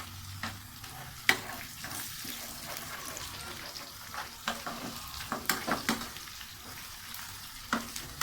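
Masala sizzling and being stirred in a pan beside masoor dal cooking on high flame, a steady faint fry with scattered clinks and scrapes while someone talks over it.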